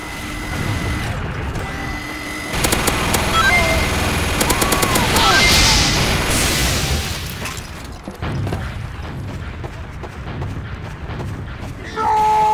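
Heavy, sustained gunfire from Team Fortress 2 rumbles on the Frontier map, a dense continuous roar with mechanical whirring and distant booms layered throughout.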